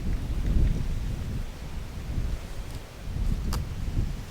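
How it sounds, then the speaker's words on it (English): Low, rumbling buffets of wind batter the microphone in uneven gusts on a sunny goat farm, with a couple of faint clicks near the end. "it's windy today. And bear with me if you guys are picking this up on the mic"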